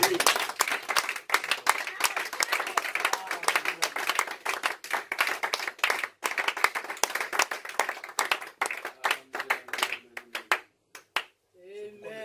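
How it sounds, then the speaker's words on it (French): A church congregation at a Sunday service claps rhythmically and energetically for about ten seconds, dense dry handclaps that thin out toward the end as a few voices come through. "Applaudissez le Seigneur."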